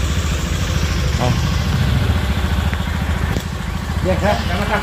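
A new motorcycle idles close by with a steady, low, pulsing chug that runs throughout, while people chat nearby.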